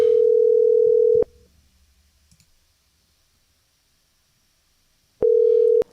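A telephone ringback tone sounds while calling a number: a loud, steady tone for about a second, a click, several seconds of near silence, then the tone starts again close and clear.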